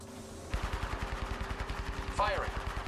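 Rapid automatic gunfire from Apex Legends, a battle royale shooter, rattles in a steady burst of evenly spaced loud shots, with a brief electronic game effect sweeping in near the end.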